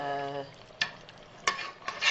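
Masala of tomato, onion and yogurt frying uncovered in a pot for biryani, a steady sizzle with a tonal hum fading early, broken by a few sharp stirring scrapes.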